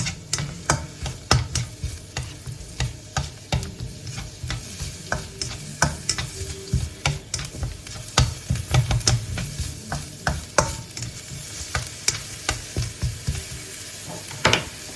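Garlic and onion frying in oil in a wok for shrimp fried rice, a persistent sizzle broken by quick, regular spatula scrapes and taps, close and fairly loud throughout, with no talking.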